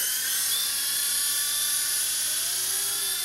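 A small remote-controlled toy helicopter flies nearby with a steady, high, buzzing whine from its rotor and motor that holds constant throughout, with no talk.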